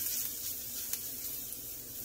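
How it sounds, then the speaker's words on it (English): Steady, continuous sizzling of garlic frying in hot oil in a pan, a bright hissing crackle with a few small pops, close up and alone. "You want to hear that sizzle, that means the pan's nice and hot."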